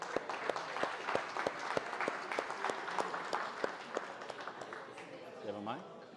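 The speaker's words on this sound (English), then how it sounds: "Give her a round of applause, everyone." An audience at a civil engineering showdown event claps in a round of applause, with sharp, fairly steady individual claps standing out, while voices talk over the clapping.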